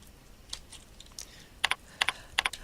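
Computer keyboard typing in short clustered bursts of crisp clicks, a few scattered taps early then quick double strikes, close and fairly quiet.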